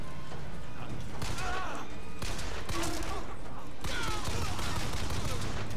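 Rapid bursts of gunfire from the video game BioShock Infinite crack and thump in dense volleys over several seconds, mixed with crashes and a person talking over the action.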